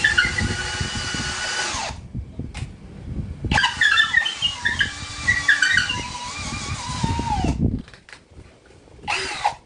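A Ronix 20-volt cordless hammer drill, model 8905K, whirs loudly in long bursts in speed 1 drilling mode, revving and cutting off, then starting again briefly near the end.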